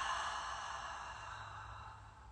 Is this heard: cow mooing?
no